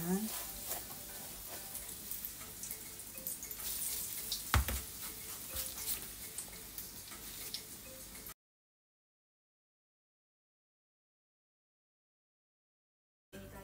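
Asparagus spears wrapped in bacon fry in a pan with a steady, close sizzle and crackle for several seconds before going abruptly silent, then briefly resuming.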